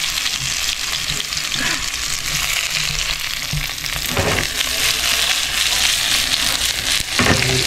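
Garlic and onion fry in a pan with a loud, steady hiss close up, and a few scraping stirs and brief bursts stand out over the continuous sizzle.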